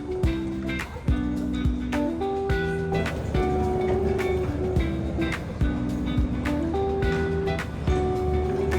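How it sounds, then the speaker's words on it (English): Steady rumble of a passenger train on the Nairobi to Mombasa line in Kenya, with rhythmic rail clicks and tonal hums inside the carriage, continuous and fairly loud, no speech. "I'm on a train ride from Nairobi to Mombasa."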